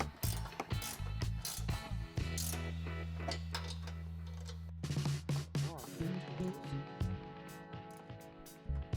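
Bolts on a CBI T3 Covert half bumper being tightened with a ratchet, giving rapid clicking bursts alternating with a steady mechanical whir, close and fairly loud, no talking.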